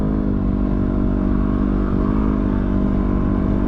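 A Yamaha WR250R motorcycle is ridden in third gear toward sand dunes, its engine droning loud and steady at constant revs with wind rush, close to the rider, and no speech.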